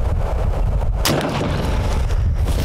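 An Airforce Texan .457 big-bore airgun fires a single shot, a sharp loud crack standing out from a rumbling outdoor background.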